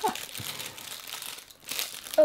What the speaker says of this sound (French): J'ai complètement détruit le papier.